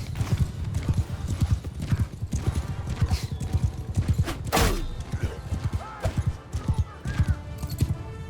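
Rapid hoof clip-clop from horses in the medieval battle game Mount & Blade 2: Bannerlord, galloping steadily and loud throughout, with a brief neigh or whinny near the middle and faint background clatter.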